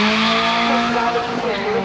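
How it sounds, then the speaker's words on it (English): A drag car makes a flyby at Killarney race track in Cape Town during a Honda day event, its loud sustained engine tone droning steadily with a tyre-squeal edge, close throughout. "So that is a drag car. He's only doing a flyby because he doesn't have the necessary suit on"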